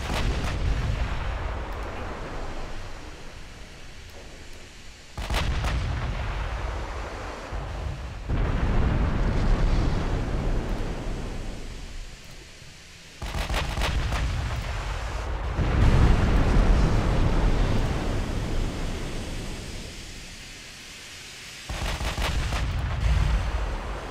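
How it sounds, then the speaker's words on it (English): The battleship Nelson's main gun battery fires in the naval game Ultimate Admiral: Dreadnoughts: five or six deep, booming salvos a few seconds apart, each followed by a long rumbling roll. "let's get all of Nelson's battery firing again"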